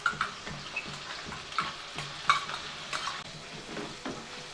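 Onion paste, coarsely ground, hits hot oil in a pan with a steady sizzle while a spoon scrapes and stirs in repeated soft strokes, with a few light metallic clinks near the surface.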